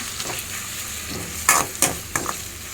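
Chicken fries with ginger garlic paste for a gongura chicken curry, a steady sizzle with several sharp scraping stirs of a spoon against the pan.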